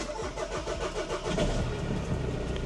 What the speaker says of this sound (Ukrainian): Двигун зараз мовчить. Перший його запуск